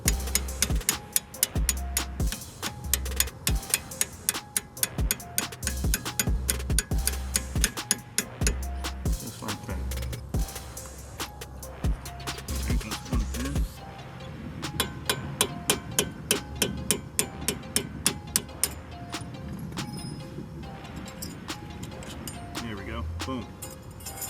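Rapid metallic taps and sharp strikes from a hammer driving a tool against a 2021 Kia Stinger brake caliper during a brake upgrade, close and rhythmic, with denser strikes early and lighter repeated ticks later.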